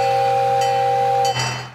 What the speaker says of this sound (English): The train is my favorite part